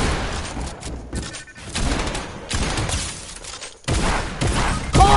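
Rapid bursts of gunfire in the Bubble Bomber shooter game, loud and dense, with repeated volleys broken by short pauses and a sharp crack near the end, no talk over it.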